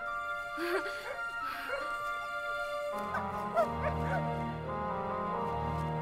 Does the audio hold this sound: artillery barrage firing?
no